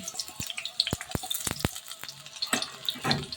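Chopped onions fry in hot oil in a kadai, with a crackling sizzle broken by sharp clicks and scrapes of a spoon stirring against the metal.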